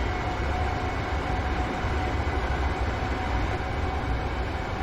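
Train Simulator 2018 game audio of a train running between Motherwell and Glasgow Central as it accelerates toward 60 mph: a steady, loud rumble of rolling wheels and traction with no break and no voices.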